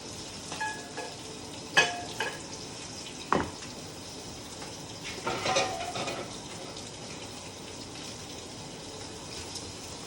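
Salmon searing in a pan, a steady close sizzle and fry hiss throughout, with a few clinks and scrapes of utensils standing out above it.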